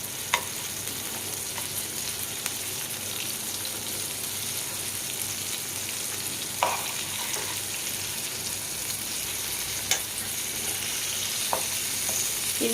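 Pieces of fish frying in hot oil in a pan give off a constant, even crackling sizzle, with a few faint clicks and taps from turning the pieces, close and unbroken, with no talking.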